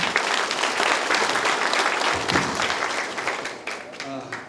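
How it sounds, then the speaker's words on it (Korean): An audience claps loudly to welcome the county governor at a provincial meeting in Bonghwa, a dense, even burst that holds, then thins out toward the end. "큰 박수로 모시겠습니다"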